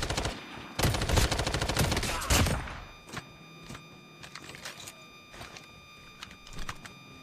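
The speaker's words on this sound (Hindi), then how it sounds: "ऐसे ही फायर कर रहा था क्या ये?" Gunfire in Call of Duty Mobile battle royale, a rapid automatic burst rattling loudly for the first few seconds, then sparser single shots and thuds further off, with no talking over it.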